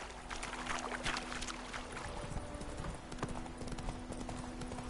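Roach, Geralt's horse in The Witcher 3, gallops with steady, rapid clip-clopping hooves close by, over a constant background of game ambience and no talk.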